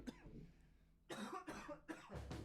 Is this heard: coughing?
yes